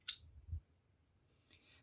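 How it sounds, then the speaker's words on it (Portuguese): Scissors snipping crochet yarn, a faint close click followed by a soft cut and light rustle, quiet with no talk. "aqui eu vou cortar esse meu fio"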